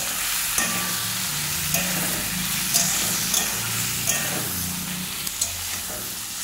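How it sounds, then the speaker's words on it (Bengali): Potato chunks and pointed gourd fry in hot oil with turmeric in a pan, giving a steady, fairly quiet sizzle with occasional soft clicks of stirring. "আমি আলু পটল একসঙ্গে তেলে ভেজে নিচ্ছি।"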